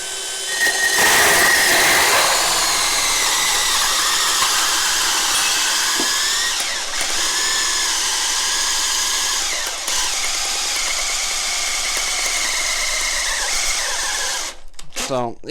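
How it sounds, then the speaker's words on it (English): A power drill at a lower speed setting whines continuously as a Bosch Daredevil hole saw grinds into wood, its pitch wavering slightly with load over a long, unbroken stretch. "let's see how it does on a lower speed setting for the drill"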